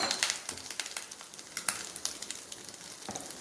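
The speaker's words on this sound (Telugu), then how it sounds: "కారం వేసి ఒక 2 నిమిషాలు ఫ్రై చేసుకొని ఆపేసుకోవాలి." Mutton kheema fries in a pan with chili powder and garam masala, giving a close, dense sizzle broken by frequent sharp crackles and pops throughout.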